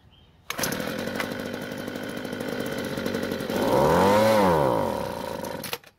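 A small two-stroke leaf blower engine starts after a fresh fuel fill and priming, catching abruptly and running at a steady buzzing idle before revving up briefly and cutting out, all alone and fairly close.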